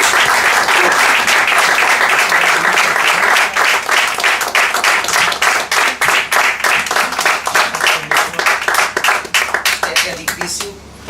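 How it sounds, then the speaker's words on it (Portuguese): Loud, close audience applause at a tribute evening, dense clapping at first that thins into more distinct individual claps and fades out near the end. "Uma salva de palmas ao Paulo Vasco."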